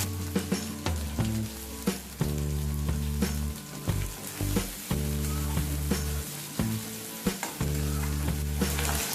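Minced garlic and chopped green chillies fry in hot oil in a pan, giving a loud, continuous sizzle broken by repeated stirring scrapes and clatters of a utensil against the pan.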